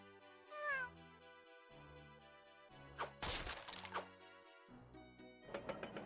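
A cat in a video game gives a few short meows among chiming, clattering game effects and melodic tones, quiet overall with brief louder bursts.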